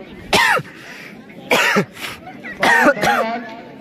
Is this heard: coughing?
yes